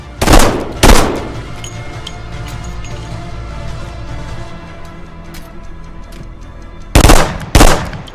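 Loud firearm shots on a shooting range in the H3VR virtual reality game: two sharp reports close together, a long quiet stretch of low rumble, then another tight pair of blasts.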